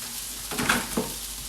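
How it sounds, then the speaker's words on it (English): Onions, mushrooms and garlic sizzle and fry in a pan alongside gnocchi, a quiet steady crackle with two brief louder stirs as the vegetables go back into the pan. "then you can add back into your pan your onions, your mushrooms and your garlic"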